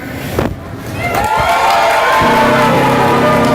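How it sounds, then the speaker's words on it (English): An outdoor Earth Day crowd cheers and shouts to pick a People's Choice Award winner, starting with a brief burst and then swelling into sustained loud whooping and yelling that holds to the end. "I'm thinking, if everybody agrees, please cheer."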